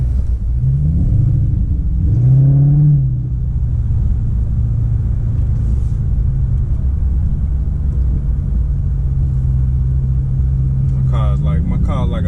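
A Dodge Charger R/T with the 5.7 Hemi V8 idles with a deep, steady rumble close by, blipping the throttle into a rising rev near the start and again at the end.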